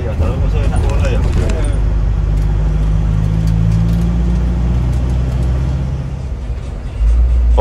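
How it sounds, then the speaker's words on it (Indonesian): Steady rumble of cars, buses and idling engines stuck in a night traffic jam on the Trans-Sumatra road near Sungai Lilin, Banyuasin, South Sumatra, heard from inside a vehicle, with brief talking at the start. "ini kena macet di daerah Sungai Lilin, Banyuasin, Sumatera Selatan."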